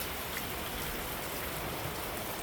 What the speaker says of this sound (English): as you can tell, the rain has come